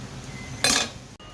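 Fried bottle gourd leaf chops coated in white sesame are lifted from a pan, giving one short burst of metal utensil scraping and clinking against the pan, loud and close, over a quiet kitchen background.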